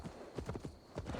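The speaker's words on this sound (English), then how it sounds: "Now to deliver Magni his horse." A horse's hooves clip-clop at a steady walking pace in the Assassin's Creed Valhalla video game, fairly quiet and alone with no talk over them.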